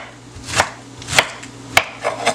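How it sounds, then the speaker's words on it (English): Cabbage being shredded thin with a knife while onion and peppers saute nearby: four crisp, evenly spaced chops cut through the vegetable, each a sharp close thud and crunch, with a steady low hum underneath and no talking. "let me go ahead and shred my cabbage"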